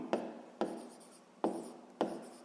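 Pen or chalk writing down a math formula, four short scratchy strokes at irregular intervals, close and fairly quiet with no talking.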